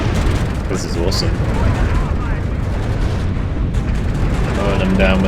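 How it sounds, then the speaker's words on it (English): Rapid autocannon fire and explosions from a WARNO real-time strategy battle, a dense continuous barrage of loud booms and bursts running throughout with voiced unit callouts mixed in. "Mowing them down with the auto cannons."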